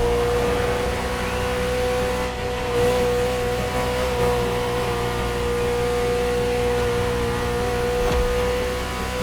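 A Ferrari sports car engine in The Crew Motorfest racing game holds a steady, loud hum with a sustained engine drone and no distinct rise or fall across the stretch, with no voices.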